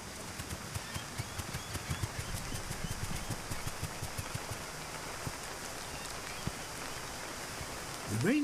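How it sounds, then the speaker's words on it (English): A rain shower patters steadily on the ground with scattered drops tapping close by, soft overall, then a low sweeping sound swells near the end. "Another shower brings an acoustic climax."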